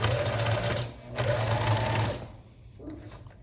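A sewing machine backstitches across a fabric strap, its steady mechanical hum running in two short bursts with a brief pause between, then fading to quieter handling noise.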